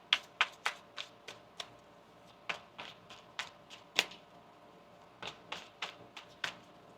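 Tarot cards are shuffled by hand in a quiet room, a string of soft, close riffling snaps and taps in uneven bursts with short pauses between them.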